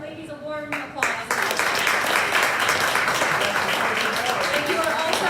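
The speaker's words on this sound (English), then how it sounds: "please give our ladies a warm applause" An audience breaks into applause for women entrepreneurs at a community pitch event, the clapping swelling after a brief spoken lead-in and holding steady, fairly loud, to the end.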